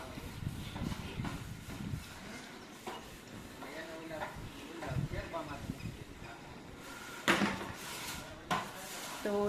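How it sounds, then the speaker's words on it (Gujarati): Dishes, pots and utensils being washed at home, with scattered clattering knocks under ongoing conversation. "તો જો ત્યાં મમ્મી વાસણ કરે છે."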